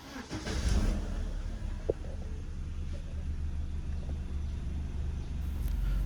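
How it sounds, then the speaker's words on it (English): A 2001 BMW 3 Series E46 318i with a throttle valve potentiometer fault starts up, then settles into a low, steady idle rumble, heard fairly faintly from inside or near the car. "I start the car here."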